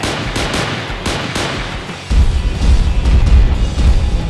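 Rapid toy-battle gunfire in play with Transformers figures, a dense crackling burst of shots that grows louder and heavier partway through, with no talking.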